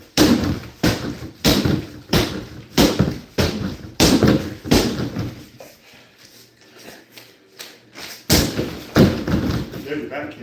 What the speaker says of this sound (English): There's your back kick, right?